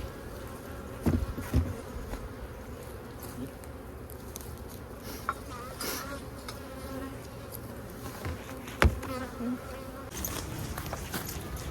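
Honey bees from a package colony buzz in a dense, steady drone during a hive inspection, close and continuous, with occasional knocks and handling bumps from the hive box and faint background noise.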